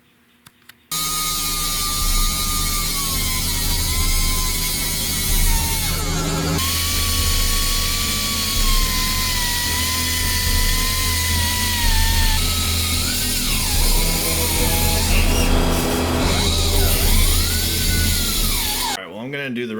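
An angle grinder runs continuously against a rusty old axle, its high whine wavering in pitch as it bears into the metal, loud and close for most of the stretch.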